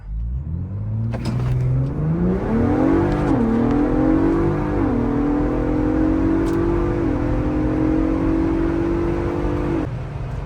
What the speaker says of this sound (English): So let's pull back out here and do one more pull.